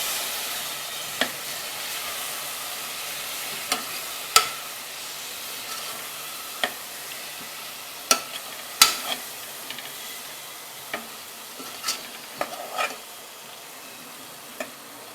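Vegetable biryani with yogurt is stirred in a pan over steady sizzling and frying hiss, with sharp, irregular spoon scrapes and clinks on the pan throughout.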